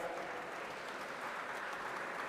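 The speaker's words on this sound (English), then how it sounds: "A big round of applause, my friends." Applause from a conference audience at a student parliament event, a steady dense patter of clapping that holds evenly throughout at a distance, with no voices over it.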